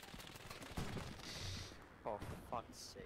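Machine gun fire and scattered shots crackle in the World War II shooter game Hell Let Loose, fairly distant bursts mixed with other battlefield noise while a player talks over it.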